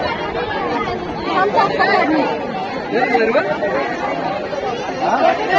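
A dense crowd at the Shri Kalamba Devi temple fair (yatra) in Nandgaon fills the air with close, steady chatter and overlapping voices, swelling slightly in places.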